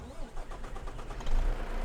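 A truck engine in Farming Simulator 22 cranks and catches, then settles into a low, steady rumble that grows louder near the end, close and alone.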